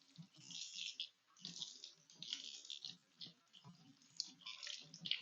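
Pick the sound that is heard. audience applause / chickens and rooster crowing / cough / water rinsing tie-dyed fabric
water rinsing tie-dyed fabric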